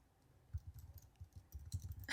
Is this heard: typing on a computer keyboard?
yes